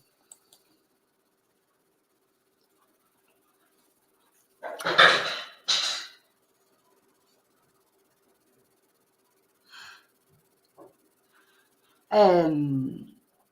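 Dogs bark a few times in a quiet room: a double bark, a soft yelp later, then a final loud bark, with long silent gaps between.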